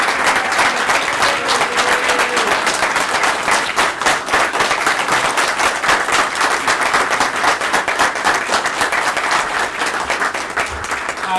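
Loud, sustained applause from an audience at the Libertarian Party of Illinois convention after a speech, dense clapping filling the room evenly from start to finish.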